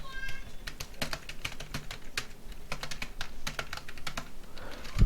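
Code being typed on a computer keyboard: a steady run of quick, close keystroke clicks with brief irregular pauses, no talking.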